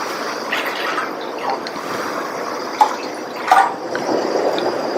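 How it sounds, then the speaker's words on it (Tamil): Three cups of water are poured into a pan while making payasam, a steady close trickling and splashing stream that runs for about five seconds with brief louder splashes, no one speaking. "அடுத்து இந்த பேன்ல 3 கப் தண்ணி சேர்க்கிறேன்."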